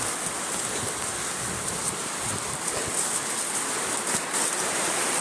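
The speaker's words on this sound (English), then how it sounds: "It's raining heavy here" Heavy rain pours down steadily at a home, a dense continuous hiss of drops drumming on surfaces, loud and unbroken throughout with no voices.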